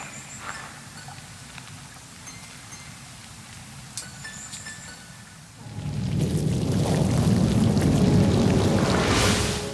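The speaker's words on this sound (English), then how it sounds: "Central to the show is a huge, earth-shattering, tumultuous storm" A theatrical thunderstorm effect for a stage show: a faint, hushed opening gives way to a sudden, loud, broad rushing roar of rain and rumble that fills the rest of the clip.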